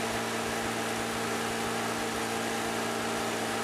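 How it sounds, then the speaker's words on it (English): A car engine runs steadily in Project Zomboid, giving a constant humming idle with a fine even rumble and broad hiss, moderately quiet and unchanging with no talking. "See if this car starts."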